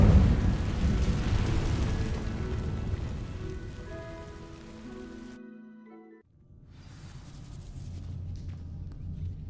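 A fire spell bursts into flame against dry vines in Hogwarts Legacy, a loud whooshing, crackling roar that rises with tonal magic shimmer, cuts to near silence for a moment, then returns as a softer burning rush.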